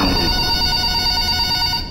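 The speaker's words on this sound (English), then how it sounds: "Yo, answer the phone." Telephone ringing inside the Roblox horror game FNAF Forgotten Memories, a steady electronic ring filling the short clip at a loud, close level with no talk over it.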